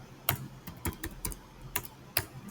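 Keys on a computer keyboard clack in short, uneven bursts, with a handful of crisp taps spread over a couple of seconds, quiet and close, with no other sound around them.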